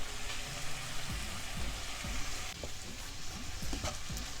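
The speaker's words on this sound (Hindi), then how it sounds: "ये सब्जियाँ मैं बहुत ज़्यादा नहीं पकाऊंगी, वो आधी कच्ची आधी पकी रखेंगे" Vegetables for instant noodles sizzle in a hot pan, a steady crackling fry punctuated by soft scraping stir strokes every half second or so, close and moderately quiet.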